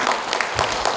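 A brief burst of audience clapping at a lantern festival lighting ceremony in Muan, several distinct claps close together over about a second.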